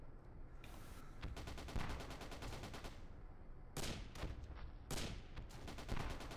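Rapid gunfire in the WWII Online video game, dense bursts of automatic and rifle shots crackling continuously with sharper louder reports standing out, fairly faint and without talk.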